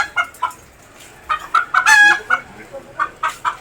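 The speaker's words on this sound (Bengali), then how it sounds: "দেশি মুরগি" Scattered clucking from nearby native country chickens at a market, short bursts with pauses between and one louder squawk in the middle.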